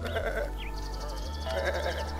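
Sheep bleat in the cartoon adventure game Botanicula, with two or three wavering, cartoonish calls over a steady low game hum and light chimes, and nobody speaking.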